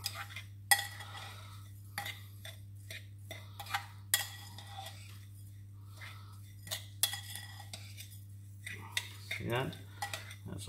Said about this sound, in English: And then we're gonna give that all a nice mix,